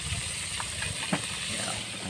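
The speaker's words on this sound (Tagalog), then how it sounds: "nagluluto si Chip ng ulan namin. Yun, nagpiprito" Food fries in a pan on a small boat's gas stove, a steady close hiss and sizzle with faint background rumble and no talking.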